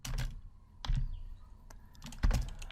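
Keys on a computer keyboard are tapped in three short bursts of clicks, close and quiet, with pauses between them while entering a Python division example.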